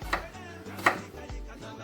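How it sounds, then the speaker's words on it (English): Knife chopping bell peppers into small pieces for stuffing, a couple of sharp board knocks spaced apart, close and fairly quiet with no talk. "So please take note of how I'm chopping."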